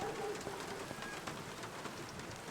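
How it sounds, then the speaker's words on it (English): Steady video-game rain patters on a surface, a soft, continuous hiss with faint bird chirps in the background. "And yes, apparently it is raining. It is perpetually raining."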